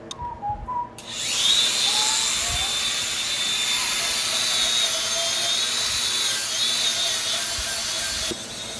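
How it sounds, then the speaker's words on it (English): An angle grinder with a wire wheel cleans a cast iron cylinder head from a 4.3L Chevy V6. After a brief quiet start it spins up into a loud, steady, harsh scraping whine that holds for about seven seconds, then cuts off. "I've found that the old wire wheel on the angle grinder does a great job."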